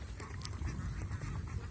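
Native domestic ducks kept for meat quack together in a busy, overlapping murmur, many birds calling at once at a steady, fairly quiet level.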